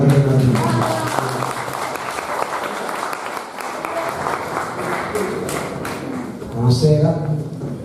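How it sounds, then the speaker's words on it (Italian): An audience at a poetry gathering applauds poet Sandra Di Bernardino, a burst of close clapping that swells and then thins, with a voice talking over it at the start and end. "Un applauso a Sandra Di Bernardino."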